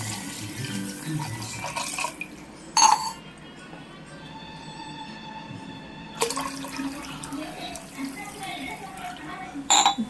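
Water is poured into a glass of lemon drink, splashing in steady streams with sharp clinks of glass or spoon between pours.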